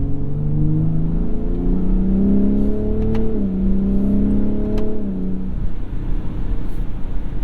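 A 2021 Ford F-150 Raptor engine revs up through its gears with quick rev-matched blips on downshifts, loud and close from inside the cabin, then settles back to a low hum.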